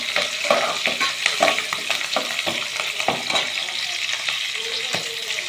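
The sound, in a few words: green chilies sautéing in a pan for fish curry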